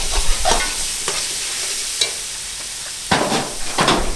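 Chicken karahi frying in a pan over a log fire, stirred with a utensil: a steady sizzle runs throughout, with scraping stir strokes near the start, around two seconds and in a cluster near the end.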